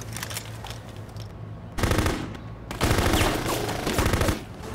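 Gunfire in the video game Full Spectrum Warrior, with rapid automatic bursts crackling loudly in two main volleys over a steady background of combat noise.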